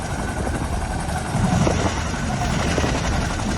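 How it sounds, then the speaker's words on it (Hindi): An army helicopter working in disaster relief after a cloudburst at Dharali, Uttarkashi, its rotor and engine giving a loud, continuous thudding roar that swells briefly midway. "सेना के हेलीकॉप्टर्स को इस काम में लगाया गया है।"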